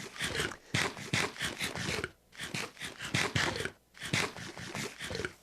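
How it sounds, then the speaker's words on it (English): Loud close chewing, rhythmic crunchy bites and mastication in quick bursts with brief pauses, alone without talking. "Sorry, the chewing noise is loud."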